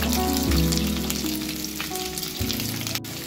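Cubed capsicum and onion frying in a pan, a loud continuous sizzle close up with a low background hum and a brief clack near the end, no voices.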